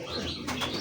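Pet pigeons, golden and fancy breeds, coo softly at close range, with a brief chirpy flutter of bird sounds in a short burst.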